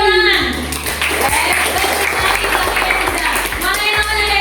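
A classroom of children claps together in a lively, sustained burst of applause close by, with a faint voice and room noise mixed underneath.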